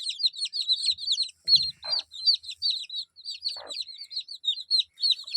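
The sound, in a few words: desi chicken chicks chirping in hatching tray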